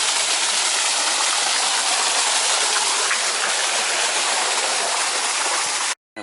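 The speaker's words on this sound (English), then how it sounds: "There's another waterfall" Rushing water pours steadily in a dense, loud hiss from a nearby waterfall built in 1911 in a Malaga botanical garden, before cutting off abruptly at the end.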